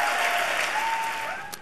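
A large conference crowd applauding Mike Huckabee's speech at the Values Voter Summit: dense, sustained clapping from thousands of people, steady and loud throughout.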